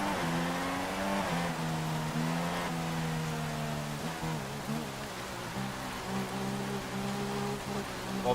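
Rain falls over the USA Grand Prix in the F1 2016 racing game, a steady wash of wet noise layered with droning engine tones from the race cars.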